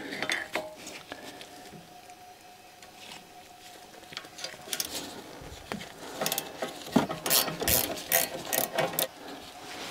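A wrench works at spreading car brake pads on an Alfa Romeo, giving sparse metallic clicks and ratcheting taps that grow busier and louder toward the end, close up, with no talking.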